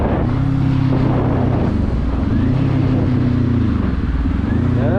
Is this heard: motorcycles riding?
yes